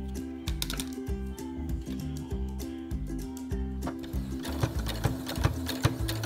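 A sewing machine stitches fabric bunting flags about 2 mm from the edge, its rapid mechanical needle clatter running steadily and close up, briefly pausing and resuming.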